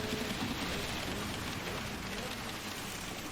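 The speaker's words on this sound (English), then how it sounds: "This is a much heavier shower than last time." Steady, dense hiss of heavy in-game rain during a Gran Turismo 7 endurance race at Spa fills the whole clip, loud and continuous without breaks.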